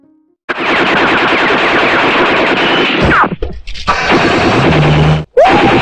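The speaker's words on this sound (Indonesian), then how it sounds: "terpaksa melepaskan tembakan ke arah tentara Belanda" Gunfire in a war film about Indonesian independence fighters shooting at Dutch soldiers: dense, loud bursts of rapid automatic shots with brief gaps and a passing whine, cutting out abruptly near the end.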